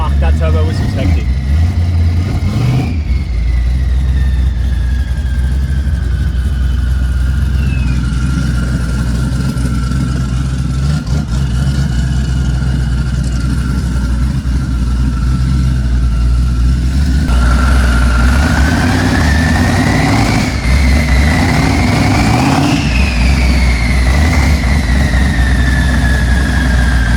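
A 1000-horsepower twin-turbo car idles cold with a deep, loud, steady rumble throughout. A faint whine rises and falls over it, and someone talks partway through.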